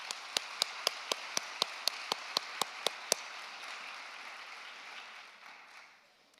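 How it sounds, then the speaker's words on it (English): Applause at a university nursing convocation, about a dozen sharp, evenly spaced claps standing out over a softer wash of crowd clapping that fades out toward the end. "So let's give them a round of applause."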